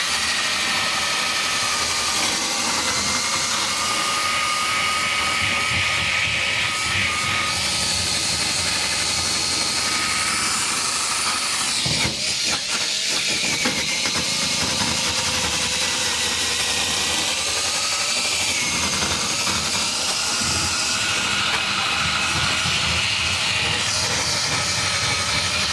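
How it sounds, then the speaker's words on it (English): A wire wheel scours grime from a car's engine compartment, a loud, steady whirring grind that runs almost unbroken and close for the whole stretch, with slight swells and dips. "I removed a bunch of this stuff here so I can get back in here with my wire"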